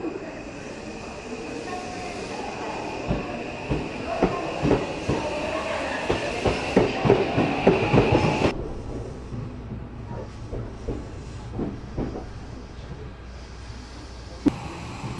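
An Odakyu Romancecar train runs along the rails, its steady rumble carrying a rhythmic clatter of wheels over rail joints that grows louder, then drops to a quieter cabin hum with fainter clicks.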